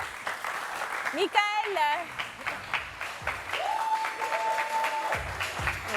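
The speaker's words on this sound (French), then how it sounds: "public, je vais vous demander de faire un torrent d'applaudissements" Studio audience applause on the set of a French TV show, a broad wash of clapping under a host's voice, with short musical stings and a sustained tone cutting through.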